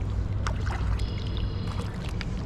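A canoe or kayak paddled on the Flat River in Michigan: soft splashing paddle strokes and dripping water over constant low wind rumble, nearby, with no talk.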